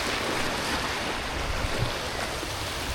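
Sea waves break on Guliakhali beach at Sitakunda, a continuous broad roar of surf with no speech.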